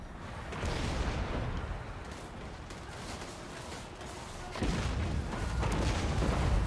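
Units firing in a Warhammer battle game, a rolling barrage of booms and crackling shots that surges, eases, then returns louder, with no voices over it.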